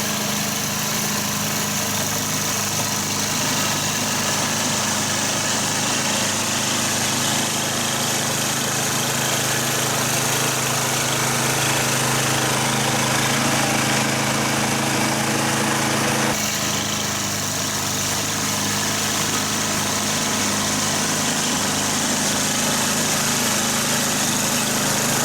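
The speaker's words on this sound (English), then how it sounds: "this thing fired up first pull, runs pretty good" A 4x4 snowblower's small engine, started on the first pull with stabilized fuel in the tank, idles loudly and steadily at close range for the whole stretch, a continuous buzzing drone with a slight shift in tone midway.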